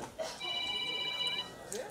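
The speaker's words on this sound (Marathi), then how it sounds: "कोणाचा फोन आहे, बंद करा ना." A mobile phone rings with a steady electronic tone during a film music launch event, heard clearly under people talking nearby.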